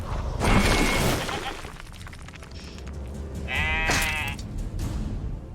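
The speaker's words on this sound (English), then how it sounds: "I could try killing this sheep." A sheep bleats in Divinity: Original Sin II aboard the tutorial ship, a loud wavering bleat up close followed by a second shorter call, over a low mechanical background with a brief crash-like burst near the start.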